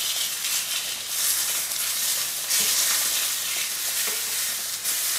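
Sweet onion fries in a hot pan with a steady, bright, crackling sizzle that keeps going without a break, close up, and no one speaks.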